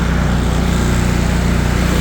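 A Cub Cadet Tank L48 commercial-grade zero-turn riding mower with a 48-inch deck cuts grass, its engine a loud, steady, close drone with a low rhythmic throb throughout and no voices.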